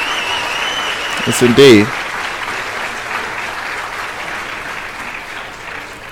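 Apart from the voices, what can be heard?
applause from audience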